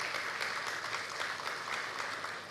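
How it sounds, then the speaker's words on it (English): Faint, distant audience applause at a celebration honouring a woman, a soft steady patter of many hands clapping with no voices over it. "Let's hear a round of applause as we do that."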